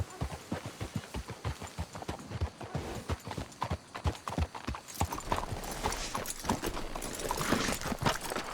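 Red Dead Redemption 2 gameplay: a horse's hooves clip-clop in a steady, distinct rhythm, growing busier and mixed with rushing noise toward the end.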